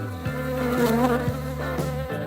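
Dense, steady buzzing of many honeybees at Slovenian beehives, a loud continuous drone with a few brief dips, close and unbroken by any voice.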